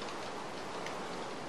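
Rain falls in the video game Minecraft, a steady, even hiss of fine drops pattering without pause at moderate level.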